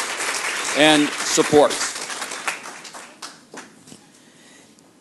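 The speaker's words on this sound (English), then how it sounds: "Let's have a round of applause for all of the sponsoring organizations, volunteers," An audience at a youth-in-care summit gives a round of applause that trails off into scattered, fading claps after a speaker's brief words at the start.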